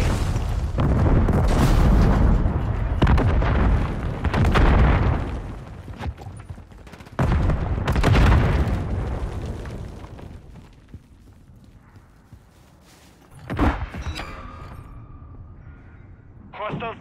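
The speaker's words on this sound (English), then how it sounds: "Throwing Semtex!" Semtex grenade explosions in a Call of Duty match, several loud booming blasts and bursts of gunfire in the first half, fading into quieter combat with one sharp bang later, voices shouting between.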